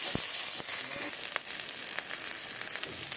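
Panch phoron five-spice hitting hot oil with chilli and chopped onion, a bright, steady sizzle with sharp crackles and pops spread throughout, close and loud.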